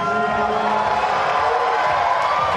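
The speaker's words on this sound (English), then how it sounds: "You can hear the crowd." A large crowd at a women's bouldering and lead climbing final cheers steadily, a loud continuous roar of voices and whoops with no break.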